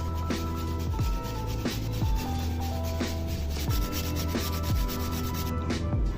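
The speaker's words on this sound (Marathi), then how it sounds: "या पद्धतीने आपण गुळ किसायचं." Block jaggery grated by hand for peanut laddoos, a steady run of rhythmic rasping strokes, about one every second, close and loud with no talking.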